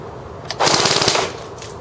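G&G F2000 airsoft rifle fires one short, loud full-auto burst over a chronograph, a rapid close rattle lasting about half a second.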